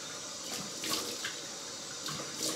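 Cold water running from a bathroom tap to rinse shaving cream off a face, a steady close hiss of the stream with brief splashy surges from hands in the flow, no voices.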